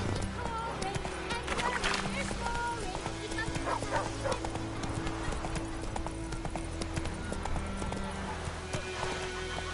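A horse galloping in the video game The Witcher 3: steady, rapid clip-clop hoofbeats run throughout, mixed with game ambience, while voices speak over the hooves.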